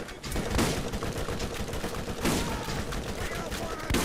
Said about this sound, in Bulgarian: пак стрелят по нас.